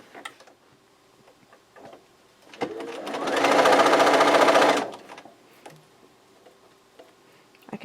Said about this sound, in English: I'm going to show you 2 more of these so that I can show you how I chain sew them.